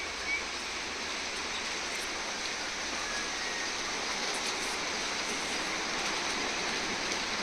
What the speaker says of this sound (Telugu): రాత్రి నుంచి వర్షం పడుతుందండి ఇక్కడ